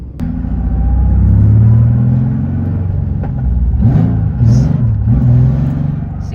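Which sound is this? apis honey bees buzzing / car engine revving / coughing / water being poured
car engine revving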